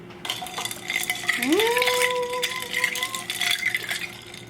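A spoon clinks and scrapes around a cup as sweet cream creamer is stirred into coffee, close and continuous, with a rising tonal squeak in the middle and light background noise.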